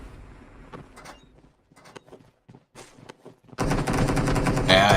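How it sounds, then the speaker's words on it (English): Scattered distant gunshots in the video game PUBG crack in short bursts, then a loud continuous roar of rapid automatic gunfire erupts close by. "As you can hear, already the gunshots ringing out."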